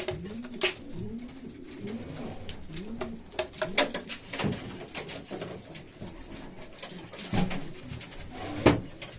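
Pigeons coo in soft repeated rolling calls nearby, mixed with fluttering, shuffling and light knocking sounds.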